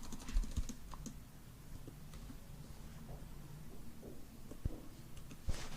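Typing on a computer keyboard while writing a shell script, a quiet close series of irregular key clicks with brief pauses and a few sharper taps.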